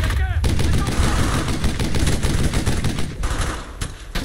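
Dense World War II gunfire in Brothers in Arms: Hell's Highway, rapid shots and bursts rattling almost without pause, loud and close, with distant booms mixed in.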